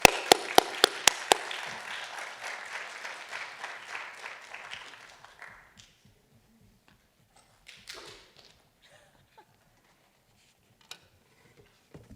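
Audience applauding a lecturer onto the stage at a College of DuPage lecture, a burst of sharp claps swelling to steady clapping that fades out after about five seconds, then near silence with faint room shuffles.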